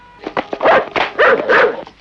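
Dogs barking in a small town setting, a rapid run of loud close barks and yips with some whimpering tones, overlapping in quick succession.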